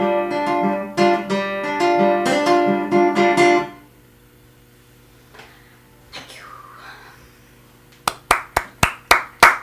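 A single person clapping after a live folk song, a short run of six sharp, evenly spaced hand claps close by, coming after a sustained sung or played phrase and a quiet gap.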